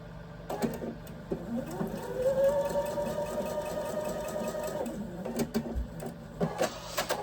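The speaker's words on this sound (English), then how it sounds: "setting my featherweight up and sewing on her for a while. I love the way she sounds." Singer Featherweight sewing machine stitching up close in a quilting session. A steady, mid-pitched whirring hum runs for several seconds, with short starts, stops and mechanical clicks around it.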